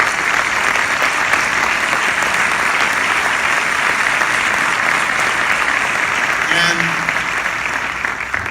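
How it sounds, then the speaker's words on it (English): Sustained audience applause at an environmental congress in Córdoba fills the whole stretch, a dense, steady wash of clapping from a large crowd with no break. "I think that applause started with some young people"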